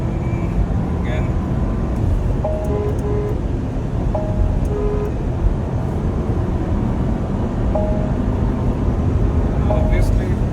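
A Porsche driving fast, a steady loud roar of engine and road noise filling the whole stretch, with someone talking over it.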